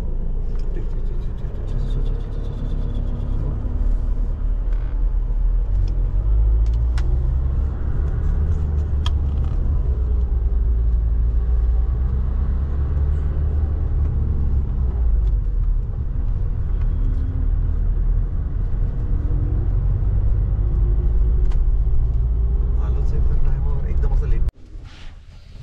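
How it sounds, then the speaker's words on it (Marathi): Cars and other vehicles creep through traffic on the Shimla ghat road, a steady low engine rumble and road noise holding for most of the stretch before cutting off abruptly near the end. "निघाल्यात गाड्या आता."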